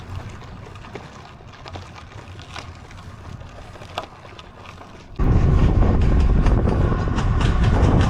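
A train passing by near a rural village, faint rumble at first, then a loud, sudden roaring rush of wind-buffeted noise as it sweeps close to the microphone.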